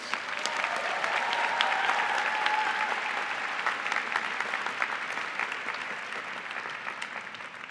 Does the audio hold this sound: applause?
yes